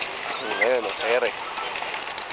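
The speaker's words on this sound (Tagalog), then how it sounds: "Ito nyo, ayan ang ibon ng GPFC." A pigeon at a countdown bird release gives two short, soft cooing calls over a steady, busy outdoor background.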